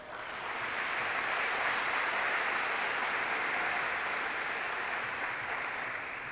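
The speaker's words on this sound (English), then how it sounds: "let's also give a round of applause to the parents" Steady applause from a crowd at a high school scholarship signing event, dense and continuous, swelling quickly and holding at an even level before easing slightly at the end.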